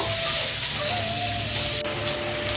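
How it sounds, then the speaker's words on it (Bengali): Chopped onions fry with whole cumin in a pan, giving a steady, close, loud sizzle and hiss with a faint tonal whine, briefly interrupted by a stir; no one talks. "এবার পেঁয়াজটা একটু লাল লাল করে একটু ভেজে নেব"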